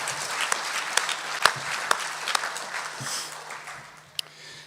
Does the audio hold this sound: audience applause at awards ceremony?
yes